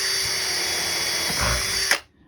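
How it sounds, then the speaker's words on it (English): A power drill bores into a sinker cypress board with a high, steady whine up close, ending abruptly as it cuts through and stops. "You just don't want to grab underneath your drill bit."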